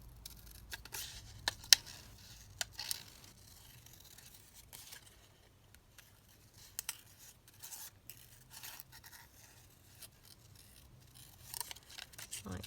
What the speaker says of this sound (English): So I'm just going to fussy cut this butterfly out.